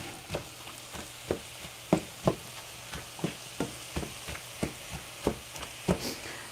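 Ground turkey cooks in a pan with a low, faint sizzle, broken by a dozen or so sharp scraping and tapping strokes from a utensil stirring the meat at an uneven pace.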